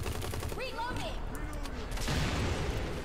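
Several bursts of gunfire from a gun in Hazrd Ops crack out mid-range under someone talking, with a dense rattle of shots toward the end.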